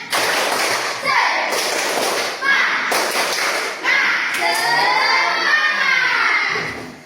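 A school class performs the tepuk semangat clapping chant, with loud rhythmic claps and taps mixed with children's shouted chanting voices, energetic and close.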